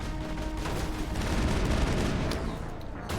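Dense, sustained gunfire from a Mass Effect firefight, with a continuous rattle of shots and booms packed together at close range for the full stretch, with no talking over it.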